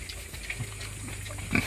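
A heavy live pig grunts on a farm, low snorts and a short louder squeal near the end over steady background noise, close by and fairly quiet.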